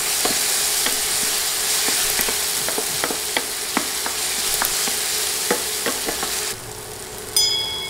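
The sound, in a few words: chopped tomato being stirred and fried with garlic and onion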